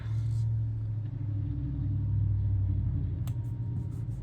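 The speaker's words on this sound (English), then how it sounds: "Sorry about the traffic, you guys." Road traffic rumbles outside as a steady, low, moderately loud drone, with a brief rattle toward the end and no speech.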